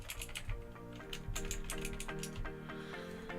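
Rapid, steady clacking of keys on a computer keyboard, typed while building a small-form-factor Ryzen PC, close and fairly quiet with no talking.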